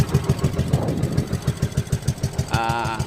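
A boat engine at Lapak Beach in Thailand runs steadily at close range, its low rhythmic chug pulsing evenly throughout, with a brief higher whine near the end.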